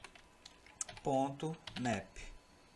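Keys on a computer keyboard tap softly while JavaScript code is typed, quiet clicks running under someone speaking Portuguese.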